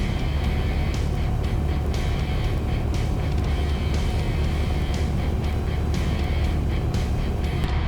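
A green-and-white Cessna's engine idles with the throttle pulled back during a simulated emergency landing near mountains, a steady loud drone in the cockpit with no talking.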